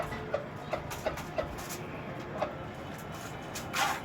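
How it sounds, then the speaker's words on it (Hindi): Several short, evenly spaced clucks from chickens and a rooster eating walnuts close by, followed by a scattered few more over a low outdoor background noise. "मुर्गा मुर्गी सब माशाल्लाह अखरोट खा रहे हैं।"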